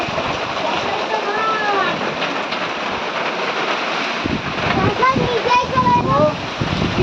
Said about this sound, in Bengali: সুন্দর বৃষ্টি, হাওয়াটা আসছে মুখে, বৃষ্টি ইয়েগুলো পড়ছে